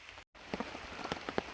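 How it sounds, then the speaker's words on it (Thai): Rain falling in a forest, a quiet steady patter with scattered distinct drops striking a surface, briefly cutting out near the start. "โอ้ยฝนตกแล้วบัดนี้"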